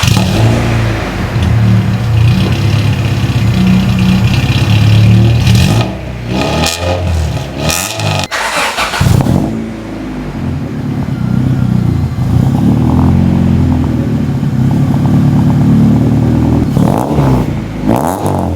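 A Honda four-cylinder car engine revs hard through a deep, throaty exhaust with a new welded muffler, rising and falling in bursts, loud and close with no talking.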